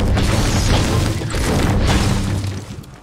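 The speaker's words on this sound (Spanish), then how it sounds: "Cuando te tira con un disparo con lanzacohetes" Heavy booming explosions in a shooter video game, a rocket launcher blast rolling into a loud sustained rumble with crashing debris, dense and continuous before tapering off at the end.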